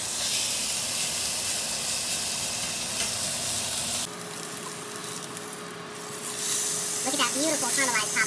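Ribeye steak searing in a hot oiled pan on a flat top, a loud continuous sizzle and hiss that changes character midway, with a few clinks near the end.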